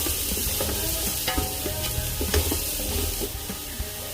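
Onion and green chillies sizzle steadily in a frying pan for Maqlooba rice, with soft scraping stirs throughout and no talking.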